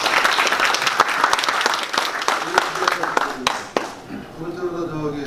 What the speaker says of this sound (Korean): 박수로 부탁드립니다.